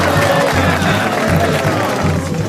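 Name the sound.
audience applause and cheering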